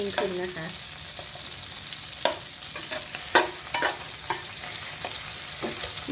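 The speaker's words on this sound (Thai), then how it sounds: "จียวส่วนนี้ให้หอมนะคะเพราะว่าน้ำมันหัวกุ้งเนี่ยก็จะออกมา" Shrimp heads fry in oil in a wok for shrimp fried rice, a constant sizzle punctuated by scraping, clacking strokes of the spatula.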